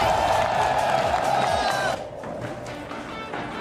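Crowd at an esports event for a League of Legends-style team match, cheering and whooping loudly in a dense, continuous roar that drops to a lower, steadier crowd murmur partway through.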